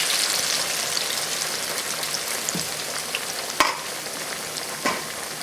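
Steady, fine crackle of plantains frying in hot oil, continuous and fairly close, with a few sharper pops and spits standing out now and then.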